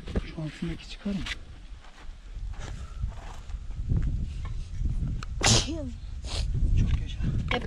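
A single sharp sneeze bursts out amid ongoing talk and scraping, clattering noises nearby.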